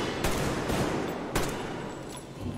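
Gunfire in the post-apocalyptic shooter Metro Exodus: dense, sustained bursts of automatic fire with sharp louder cracks near the start and middle, filling the whole stretch without speech.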